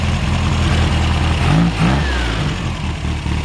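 A 1968 VW Beetle convertible's engine, with about 150 miles on it and a mild cam, idles loudly and steadily while warming up, a low lumpy air-cooled rumble with slight revving swells midway.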